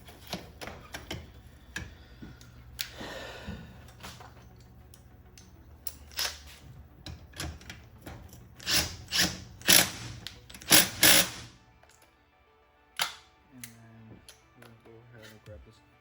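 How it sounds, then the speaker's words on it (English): Magazine refitted onto a Hitachi NR83 nail gun: a run of sharp metallic clicks and taps, a few louder snaps near the middle, with someone talking through much of it. "We're gonna put the magazine back on."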